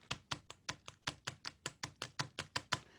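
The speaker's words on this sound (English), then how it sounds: "This is the sound of dog footsteps or cat." Foley dog footsteps made with gloves that have paper clips and nails taped to the fingertips: light, quick clicking taps patter in a steady trotting rhythm, about a dozen soft paw-like steps on a hard surface, close and quiet.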